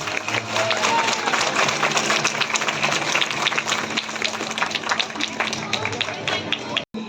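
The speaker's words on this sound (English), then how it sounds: "Please give a huge round of applause." An audience at a school annual function claps loudly and continuously, a dense wash of applause that carries through to the end with a brief dip just before it closes.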